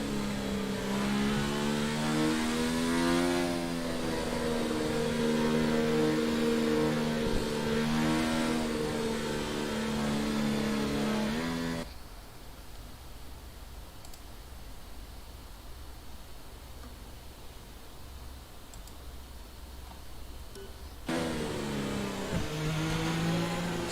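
A race car engine on its out lap at the Russian GP in a racing game screams loudly with rising and falling revs through gear changes, then drops away for several seconds to a quieter hiss before the engine note returns.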